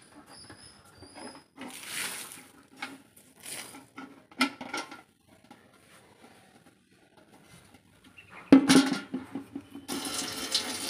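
Sheets and a basket are washed with water from a bucket, giving intermittent splashes and pouring bursts separated by quiet gaps, with a louder, steadier rush of water toward the end.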